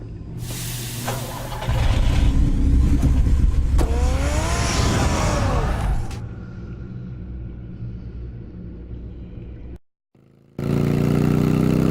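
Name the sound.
Batmobile engine revving, from a video game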